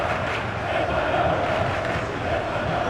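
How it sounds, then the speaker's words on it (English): Football stadium crowd at a Spain versus France UEFA Nations League semi-final singing and chanting together, a dense, sustained, distant-sounding roar of many voices with a steady pitched chorus running throughout. "This place is living up to its reputation as one of the noisiest corners of the footballing world. No decibels spared in this collective chorus."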